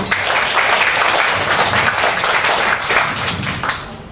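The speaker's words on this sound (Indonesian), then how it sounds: "Beri aplaus buat guru-guru." An audience at a talk on teaching gives teachers a burst of applause, many hands clapping together loudly and evenly, then fading slightly at the end.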